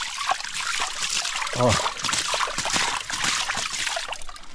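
Water trickles and splashes steadily from a small spring high on a hill in the dry caatinga scrub, a continuous close bubbling with someone speaking briefly over it.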